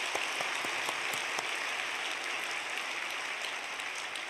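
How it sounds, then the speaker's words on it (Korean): Church congregation applauding for young children at an early-morning special prayer service, a steady wash of many hands clapping throughout at moderate level, with no talk. "우리 어린 친구들 위해서도 한번 박수 치겠습니다."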